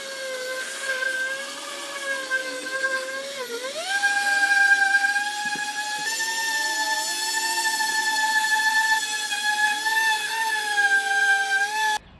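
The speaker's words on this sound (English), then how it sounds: "let's go ahead and get sanding. Got some 40 grit." A steady high-pitched whine of a power sander with 40 grit sandpaper on pallet wood runs throughout, shifting pitch briefly partway through, with no talking.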